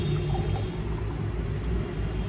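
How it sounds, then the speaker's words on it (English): A mulberry smoothie pours from a blender jug into a glass, a soft liquid glugging and trickling sound over a steady background hum, fairly close and continuous, without talk. "so I'm gonna pour it into this glass."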